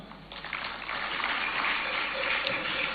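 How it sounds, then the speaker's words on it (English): A crowd claps steadily in a dense, even patter of applause at a fundraising launch event, swelling slightly and carrying on throughout. "Shall we do a big round of applause?"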